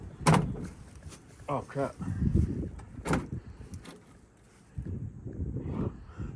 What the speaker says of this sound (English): Yeah, the door ain't opening up enough.